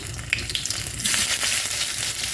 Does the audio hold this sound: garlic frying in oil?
yes